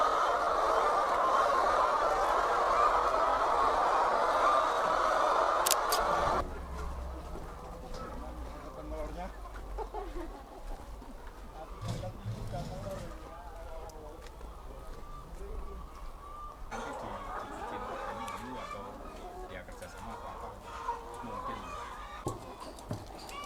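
Layer hens on an egg farm clucking in a dense, busy chorus, loud at first and then fainter beneath a continuous talking voice.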